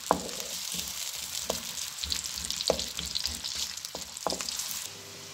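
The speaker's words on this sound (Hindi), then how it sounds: "पैन में मैंने ऑयल जो था वो गर्म होने के लिए रख दिया था 4 टेबल स्पून। और उसके अंदर मैंने प्याज जो है एक लिया था" Finely chopped onion fries in four tablespoons of hot oil in a pan, a steady close sizzle broken by occasional spoon knocks and scrapes, easing off at the very end.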